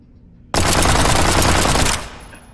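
Rapid automatic gunfire from guns in the VR zombie horde survival game Zomday, a loud sustained burst of about one and a half seconds that cuts off abruptly, played alone without talk.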